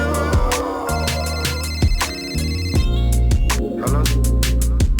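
A phone plays its ringtone loudly and close, a repeating electronic melody with sharp rhythmic notes over a steady beat, with nothing else heard.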